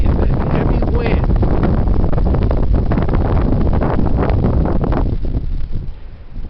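Heavy wind buffeting a microphone while moving along the Spartan trail, a constant loud rushing roar that eases slightly near the end.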